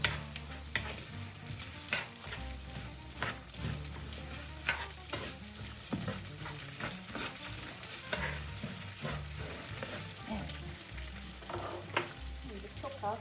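Rice sizzles and fries steadily in a pan while being stirred with scraping touches, the start of a mussel pilaf, with no talk over it.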